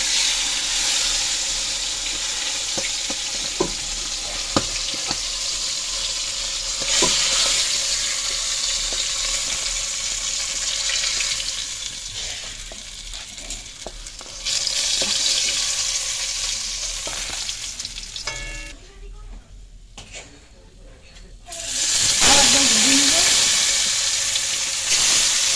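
Pangas fish pieces frying in hot oil until reddish-brown give a steady loud sizzle, with occasional utensil clinks and a brief quieter gap near the end before the crackle returns.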